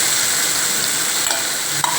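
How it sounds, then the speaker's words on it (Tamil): Onion sautés in a pan, a loud continuous sizzle with stirring, and a couple of soft clinks from a utensil near the end; nobody speaks. "முதல்ல வெங்காயம் வேணாலும் ஒரு தடவை முதல்ல வதங்கட்டும்"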